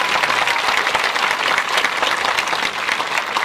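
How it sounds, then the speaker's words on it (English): A graduation commencement crowd applauds the retiring staff with dense, steady clapping that stays loud and even throughout, with no speech over it. "Big round of applause for you."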